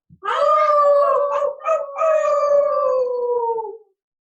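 People in a family yoga class howl like dogs, voices imitating the sound, a loud sustained howl with harmonic wails that rises, dips briefly and carries on for nearly four seconds.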